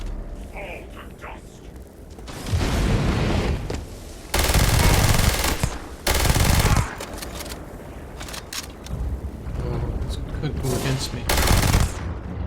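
A heavy automatic gun fires in the Starfield video game in several loud, sustained bursts separated by short gaps. A voice speaks briefly between the bursts.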